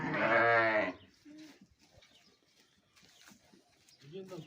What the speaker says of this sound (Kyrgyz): Мына козун көрдүңүзбү? Легенданын небереси.